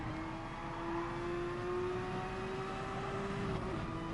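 A race car engine in Gran Turismo Sport, during a Le Mans endurance race, holds a steady high drone with a slowly climbing pitch, loud and continuous with no talk.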